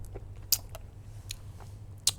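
Small white candy tablets being chewed, a few sharp crunching bites spaced apart over a quiet low hum, close and fairly faint, with no talking.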